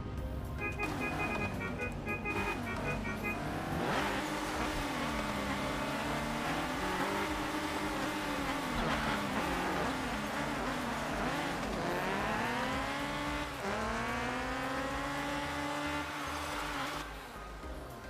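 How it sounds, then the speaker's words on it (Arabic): A car in a race in Car Parking Multiplayer revs hard and continuously, its engine pitch climbing and dropping through repeated gear shifts over a steady, loud drone. "ونريكم سرعة السيارة."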